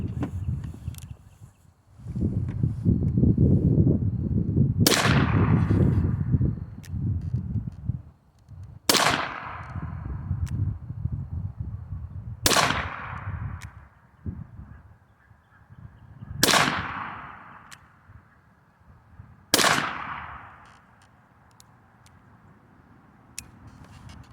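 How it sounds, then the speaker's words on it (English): An 1860 cartridge conversion revolver fires five rounds outdoors, sharp loud cracks spaced a few seconds apart, each followed by a brief echo, with low background rumble between shots. "let's fire off a couple rounds"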